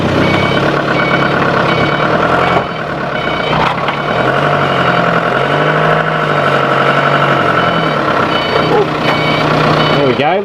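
A forklift engine runs steadily and loudly throughout, with repeated reversing beeps sounding over the mechanical drone close by.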